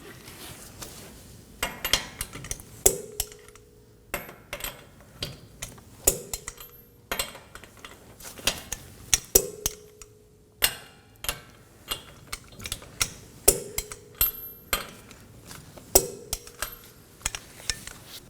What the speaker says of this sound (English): We're going to torque these down to 76 foot-pounds in an alternating pattern.